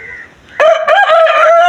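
Loud and near, a black rooster crows once, the call starting suddenly after faint background and sustaining with a wavering, drawn-out tone.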